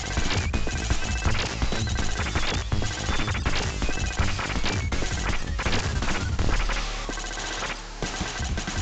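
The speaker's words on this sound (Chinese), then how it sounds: "会用机械爪连续在地面撞击。" A mechanical spider boss in Contra: Hard Corps slams its mechanical claws repeatedly into the ground, a fast run of heavy crashing impacts over loud driving game music and effects, dense and continuous.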